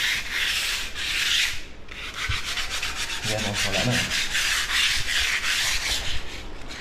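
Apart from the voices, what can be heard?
sanding skim coat corners with sandpaper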